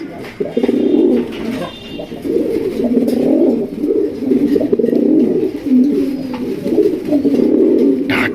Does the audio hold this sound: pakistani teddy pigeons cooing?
yes